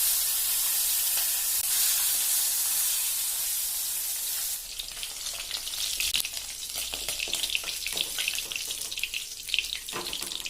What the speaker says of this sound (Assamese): এখন কেৰাহীত মিঠাতেল গৰম কৰি মাছ কেইপিচ আধা ফ্ৰাই কৰি ল'ব।